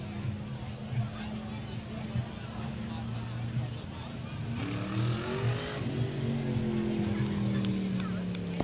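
The black 14X Mystique Motorsports SK modified race car drones through a victory lap at Waterford Speedbowl, its engine note rising and sweeping in pitch partway through, beneath continuous announcer commentary.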